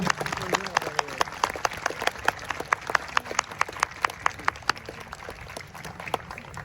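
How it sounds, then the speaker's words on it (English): Audience applause after a marching band's end-of-band-camp performance, with a broad wash of crowd clapping punctuated by sharp individual claps, steady and fairly distant, with a faint voice underneath. "So can we give a big round of applause and thanks to those people?"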